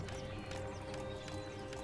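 Horse hooves from the Total War: Warhammer II video game clatter in a dense, continuous galloping rumble, with a fuller battle soundscape of sharp clatters and occasional higher accents.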